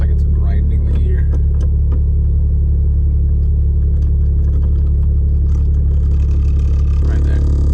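A Hyundai Genesis Coupe makes a grinding whir as it starts, set against a steady low engine rumble and close in the cabin, with a person speaking over it.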